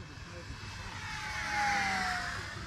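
An FMS P-51D Mustang Dago Red RC warbird, 1100mm span on 4S power, makes a low high-speed run down the runway. Its steady propeller whine swells as it passes close, then eases off over a constant engine drone.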